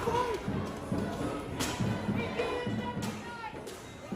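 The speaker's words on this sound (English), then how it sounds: "people in gas masks with clubs of some sort are banging on the fencing" Clubs bang repeatedly on metal fencing amid a loud crowd of people wearing gas masks at a Portland street protest, with a steady run of thuds and clanks and shouting voices around them.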